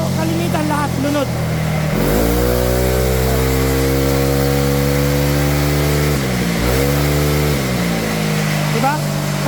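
A remapped motorcycle engine revs loudly up close, climbing and holding high revs, dipping briefly, then revving up again; a voice is heard briefly at the start.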